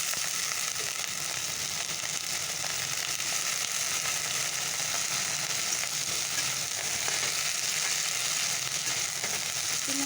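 Taro stems frying with spices in a pan on a gas stove, a loud continuous sizzle and hiss holding steady throughout, with faint stirring scrapes and no talking.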